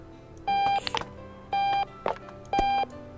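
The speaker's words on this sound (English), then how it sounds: "I gotta shut off the alarm" Alarm clock in the Octodad: Dadliest Catch video game, three loud electronic beep bursts in an even rhythm with short clatters between them.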